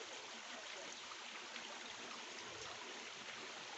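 A mountain waterfall stream in the Blida Atlas rushes in a steady, dense wash of water noise, continuous and even throughout, with no voices.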